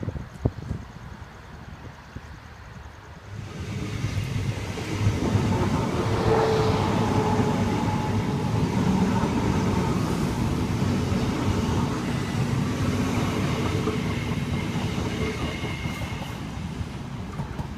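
Queensland Rail IMU units 107 and 110, running empty, roll past a station platform, a steady loud rumble of wheels and motors building after a few seconds and holding throughout, with faint clatter and wind noise.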